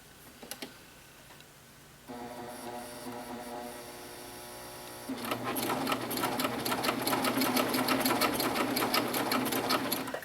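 A cover stitch sewing machine hems a Lark Tee, starting with a few clicks, then a low running hum that breaks into rapid, steady stitching, close and loud, with no voices.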